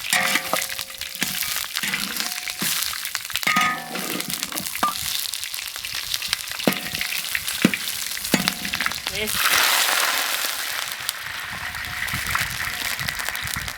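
Three pork trotters sizzle and crackle in a pot of caramelizing sugar for braised pork, with steady frying hiss, scraping stirs and a louder burst of sizzling partway through.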